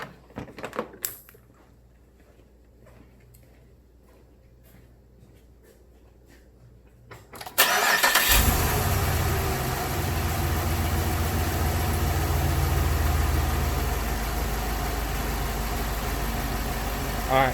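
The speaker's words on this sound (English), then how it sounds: "I'll go ahead and crank the car up" A 2007 Chevrolet Monte Carlo SS engine cranks briefly and then catches, settling into a loud, steady idle that runs on with a constant rumble after a quiet start with faint clicks.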